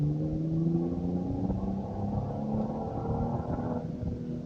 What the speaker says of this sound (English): You hear that downshift though? That like automatic downshift.